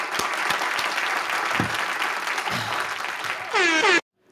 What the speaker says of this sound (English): clap hands for Koke